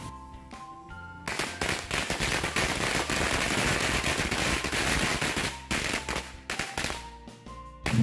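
Lighter-lit firecrackers (mercon korek) bursting in a long, rapid crackling string, loud and near, after a few separate sharp pops, then tapering off into scattered single bangs.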